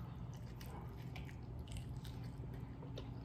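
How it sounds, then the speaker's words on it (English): Quiet, close-up biting and chewing into lobster tail, with soft squishy crunches in a steady run and no talking. "Lobster makes a funny noise when you eat it."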